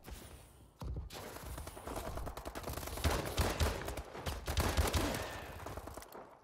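Gunfire from an M1 Irons in a video game crackles in dense, rapid bursts of sharp shots, loud and close, rising and falling over several seconds.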